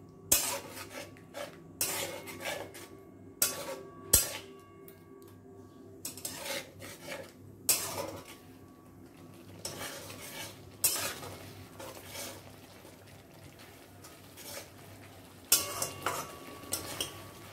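A spoon stirs spice masala with ginger-garlic paste in a pan for a home fish biryani, giving intermittent scraping strokes and soft clinks over a faint sizzle, fairly quiet and close.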